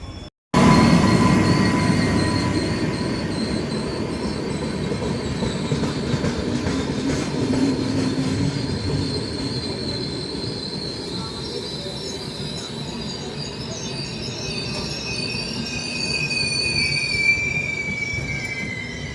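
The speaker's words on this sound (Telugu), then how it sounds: "మన ట్రైన్ అయితే నిడుబ్రోలు రైల్వే స్టేషన్కి అయితే వచ్చిందనమాట" Pinakini Express, running from Chennai Central to Vijayawada, squeals loudly and continuously on its wheels as it pulls into Nidubrolu railway station, with metallic rail rumble and occasional clicking underneath.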